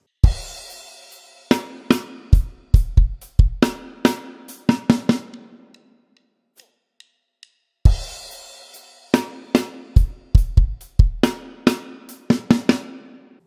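A drum kit plays the second verse fill of a song, a run of loud, close hits with ringing cymbals. A brief pause with faint clicks follows, then the fill repeats.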